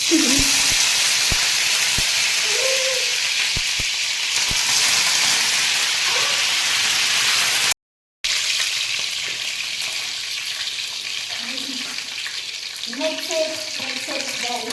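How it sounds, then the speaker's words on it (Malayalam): Curry leaves crackle and sizzle in hot oil for a Kerala nadan chicken roast, a steady loud frying hiss with stirring clinks throughout, broken by a brief dropout midway. "അപ്പൊ ഞാൻ കറിവേപ്പില ഇടാൻ പോവാണ് ഗൈസ്"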